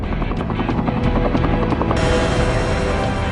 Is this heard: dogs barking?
no